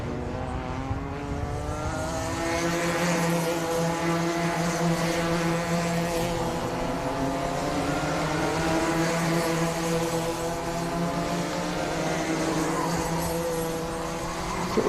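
Small racing go-karts at a club race meeting roaring past in a close slipstreaming pack, their high-revving engines a loud, steady buzz that holds for the whole stretch with rising and falling pitch as they pass.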